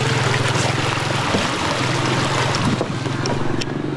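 A waterfall on Don Khone island, Laos, makes a broad, steady roar of rushing water that fills the whole clip, mixed with wind buffeting the microphone and a low engine-like hum.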